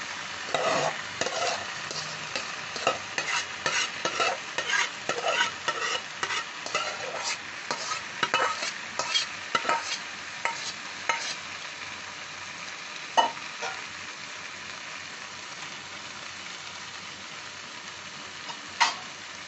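Mashed banana stem (thor) sautéed with spices for thor ghonto, stirred in a pan: close, repeated scraping and clinking strokes over a steady sizzle, busy at first, then settling into softer frying with only occasional knocks. No one speaks.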